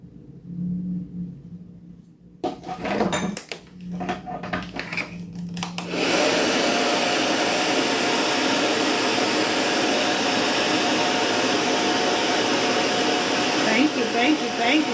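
A blow dryer roars steadily and loudly while drying hair during a silk press, starting and stopping in bursts before running continuously, with a brush working through the hair.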